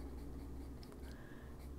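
A colored pencil scratches softly across a coloring book page, a quiet, continuous papery rasp of close strokes with no talking.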